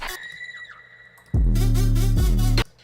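A high-pitched girl's scream sample bursts in partway through Starkey's track Martian Code, loud and sustained over a heavy booming bass drop, after a quieter synth line.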